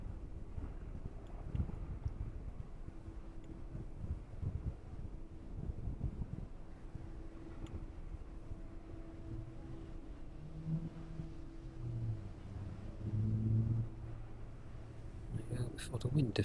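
Gusty wind buffets the microphone at an airport, a rumbling low roar that rises and falls throughout, with a louder gust near the end.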